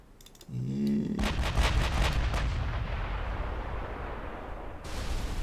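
In a naval video game with British warships, a torpedo strikes a battleship as a heavy, booming explosion that bursts after a short whoosh and then rumbles and decays over several seconds.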